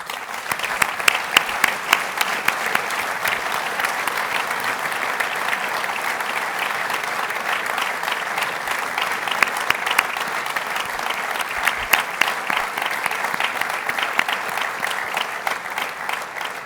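Sustained applause from a large audience at the official opening of a French small-towns assembly in Autun, a dense even clapping that carries on steadily for over fifteen seconds.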